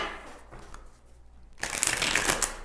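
Tarot cards are shuffled by hand outdoors in wind: a quiet riffle at first, then a loud, dense burst of close-up papery flapping and clacking that runs to the end, with no talking.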